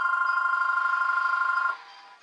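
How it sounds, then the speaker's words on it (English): A telephone rings with a steady, close electronic trill, nearly two seconds of pulsing tone that cuts off sharply and leaves a faint room hiss. "If you heard that, that was the phone ringing."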